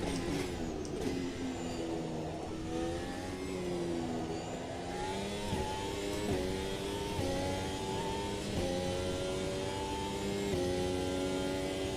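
A racing car engine whines continuously, pitch rising and dropping through gear changes as it accelerates, with no talk over it, from the racing game Automobilista 2.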